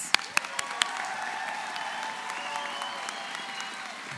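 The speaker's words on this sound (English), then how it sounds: "Let's give them all a round of applause" Audience applause for graduates at the Ivy Tech Madison, Indiana 2024 commencement ceremony, a few sharp individual claps up front, then a softer, steady spread of clapping from a large hall crowd.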